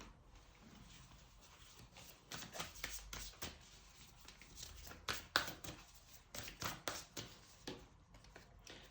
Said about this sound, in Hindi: अब मैं निकालती हूँ आपके लिए कुछ और कार्ड्स।